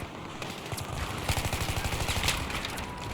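Automatic gunfire in the video game Battlefield 3, a steady rapid burst of close, loud shots running through most of the stretch over a busy battle backdrop.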